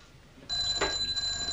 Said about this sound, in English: You're wanted on the blower, Sergeant Marsh.